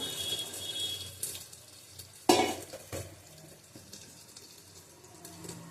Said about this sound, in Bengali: অল্প করে জল দেবো